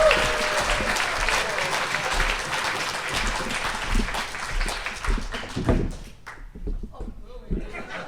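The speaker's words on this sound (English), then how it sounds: "Please give thunderous applause to Tobey Ishii Anderson." An audience at a liars storytelling contest bursts into loud applause for a performer, with a few thumps and taps mixed in, then the clapping thins out and fades toward the end.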